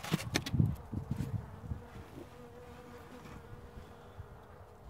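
Honeybees buzz inside an opened hive of a weak nucleus colony, a soft, close hum with rustling and a few brief knocks early on, then settling into a quieter continuous drone.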